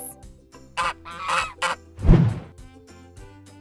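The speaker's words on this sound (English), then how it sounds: "It's a goose!" A goose honks loudly several times in an uneven series, and a lower thump lands partway through; no one speaks over the calls.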